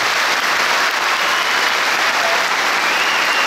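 Loud, sustained applause from a large crowd fills the hall throughout, a dense unbroken roar of clapping honoring students who completed hafiz Quran memorization training and received their certificates.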